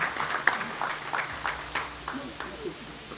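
Scattered clapping from the audience at a farmers' business school launch event, for the CEO of NIRSAL PLC: a thin spread of separate claps that tapers off, fairly quiet and alone.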